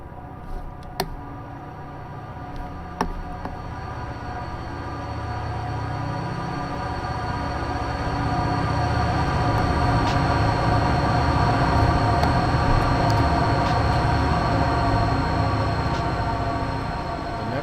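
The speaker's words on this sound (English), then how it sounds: "I hear a train coming in West Colton somewhere." A train in the Run8 train simulator game rumbles steadily toward West Colton, building gradually from a low distant drone to a louder sustained roar with a few faint clicks early on.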